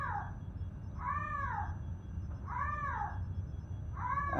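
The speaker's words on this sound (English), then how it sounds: "I'm not sure what she's meowing about." A tabby cat meows three times in a row, each call a clear rising-then-falling cry spaced about a second and a half apart, fairly close over a quiet background hum.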